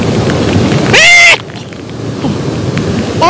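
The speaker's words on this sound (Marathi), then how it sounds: "हे वसुंधरा फॉल कसं पडतंय पाणी बघा बघा." Vasundhara waterfall at Bhandardara pours in heavy monsoon rain as a dense, continuous roar, interrupted by a brief loud tonal burst partway through.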